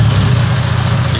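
A Mercedes-Benz engine that still needs some work runs steadily at idle, a loud, continuous low rumble with no talking.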